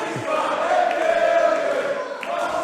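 A capacity crowd in a Manchester wrestling arena roars in a steady, sustained wash of cheering, loud and continuous without distinct breaks.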